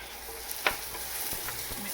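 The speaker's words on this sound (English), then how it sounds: "Mix that in there and stir it up a little bit." Grated garlic and onion stirred in an Instant Pot, a soft quiet sizzle with a few faint scraping strokes of a utensil, close but low in level.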